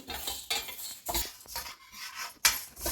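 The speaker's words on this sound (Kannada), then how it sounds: "ಡ್ರೈ ರೋಸ್ಟ್ ಮಾಡುವ ಮೇಥಿ ಸೀಡ್ಸಿದ್ದು ಕಲರ್ ಚೇಂಜ್ ಆಗಬೇಕು" Fenugreek (methi) seeds dry roasting in a pan for chilli pickle, heard as repeated close scraping and clinking of a metal spoon stirring against the pan, with rhythmic bursts and brief pauses.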